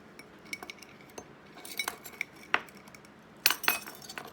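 Metal measuring spoons, a teaspoon and a half teaspoon, clink and jangle as they are pulled apart, giving sharp bright clicks scattered across a few seconds with a louder cluster near the end, no talking.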